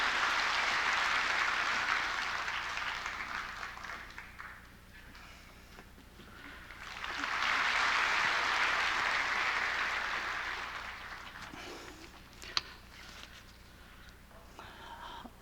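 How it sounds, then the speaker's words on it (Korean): A church congregation at a Sunday worship service applauds to bless a child, two swelling waves of dense clapping from many hands that fade between and after. "박수로 이 아이를 축복합니다"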